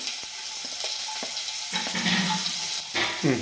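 Garlic dropped into hot oil in a home kitchen while a father and daughter cook hakka noodles, giving a steady broadband frying sizzle that swells louder as it goes in, with a brief bright clatter near the end.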